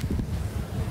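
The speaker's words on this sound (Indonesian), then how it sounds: "Itu puting beliung." A whirlwind tearing through a residential neighbourhood in Bojonggede, Bogor, West Java, roars as a dense, low, continuous rush of wind buffeting the microphone, steady and loud throughout.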